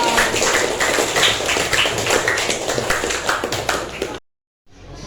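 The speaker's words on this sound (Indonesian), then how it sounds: "tepuk tangan dulu untuk teman-teman kita." A group claps hands together in a classroom-style gathering, a dense, steady burst of applause that runs for about four seconds before cutting off abruptly into silence.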